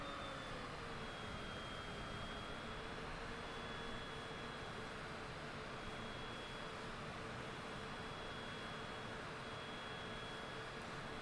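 Cessna Citation jet in a flight simulator game coming in to land, a steady broadband engine roar with a thin whine held evenly throughout, no talk over it.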